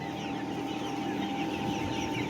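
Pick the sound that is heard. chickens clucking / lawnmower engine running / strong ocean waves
chickens clucking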